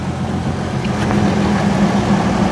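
A Rabbit pickup truck engine idles smoothly at close range, a steady low hum holding level with no other sounds over it.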